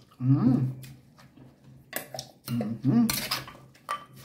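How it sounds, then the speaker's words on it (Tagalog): Papaya salad, somtam style, is mixed in a bowl with utensils, producing intermittent clinks and scraping in a few short bursts, close and moderately loud. "Haluin natin. Ngayon po, halo."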